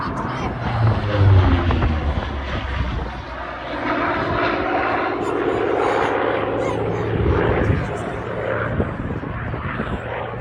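A British military aircraft flies past at an air show, its engine roar loud and sustained as it swells and fades over about ten seconds, with crowd noise faintly underneath.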